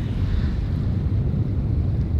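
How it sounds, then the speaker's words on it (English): Strong seashore wind buffets the microphone, a loud continuous low rumble with faint surf beneath, steady throughout with no voices. "There's also this wind coming off here, which is annoying me."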